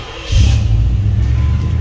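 A carbureted 1988 Chevy Caprice engine revs up as the gas pedal is pumped, a close, brief surge of engine roar.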